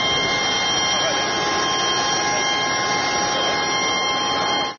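A steady, loud jet engine roar from the plane of a vice prime minister and defence minister, an unbroken broadband whine that holds level before cutting off abruptly.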